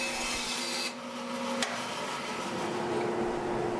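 A table saw trims a wooden featherboard for a kayak build, giving a steady loud whine and rasp of the blade through wood with a sharp change partway as the cut finishes.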